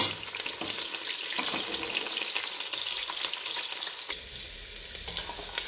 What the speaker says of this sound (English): allow the onions to saute for a minute